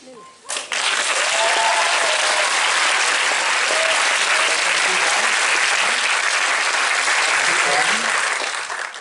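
Sustained, loud applause from an audience at a film premiere Q&A fills the room after a brief spoken lead-in, steady and dense throughout.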